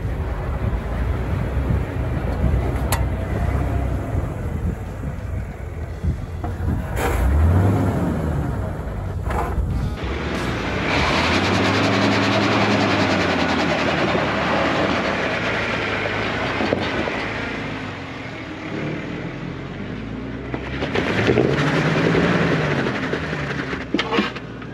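Jeep Wrangler TJ Rubicon crawling over a rock ledge on an off-road trail in Moab, a steady engine rumble with surging revs and low mechanical groans as it climbs, plus wind buffeting on the microphone.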